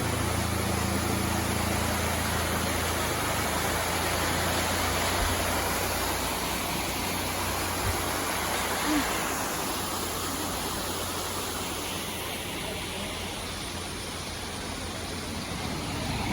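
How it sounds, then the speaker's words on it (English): A waterfall at a scenic roadside stop between Munnar and Cochin in Kerala, a steady broadband roar of falling water filling the whole clip at an even, moderate level, with a faint low engine-like hum beneath. "we came across this beautiful place having this beautiful waterfall"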